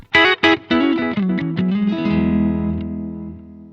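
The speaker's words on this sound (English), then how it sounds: "Analog delay, which is more like a bucket brigade," Electric guitar run through the analog bucket-brigade delay on a Zoom MS-50G multistomp, a few plucked notes and a held chord whose darker repeats trail off and fade over several seconds, heard alone.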